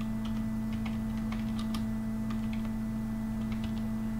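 Typing on a computer keyboard, a run of light, irregular key clicks close by over a steady electrical hum and background noise, with no voices.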